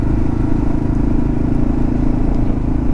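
A Kawasaki KLR 650 dual-sport motorcycle is ridden along local roads, its engine droning loud and steady with continuous rumble and wind noise close up.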